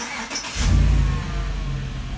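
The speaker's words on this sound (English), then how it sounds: "For remote start, push the start button 1 time and it cranks the engine." A 2016 Chevy Silverado engine cranks and catches after a Viper remote start, a brief starter whir followed by a loud, close idle settling into a steady rumble, with no talking.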